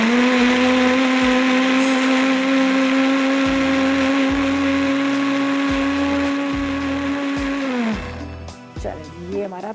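A blender grinds tomato and onion into a paste, its loud, steady motor whine running for about eight seconds before winding down, followed by a brief clatter.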